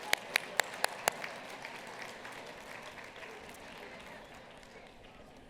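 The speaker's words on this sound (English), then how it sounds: "Let's give a round of applause to everyone that has helped pull this evening off together" At an awards gala, a few sharp claps ring out before broad, distant audience applause swells and holds steady as a soft, even wash.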